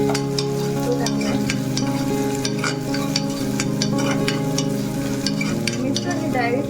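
A medium-sized onion, finely chopped, drops into hot tempering oil for misal, giving a loud, steady sizzle with intermittent clinks and scrapes of stirring, close up and continuous.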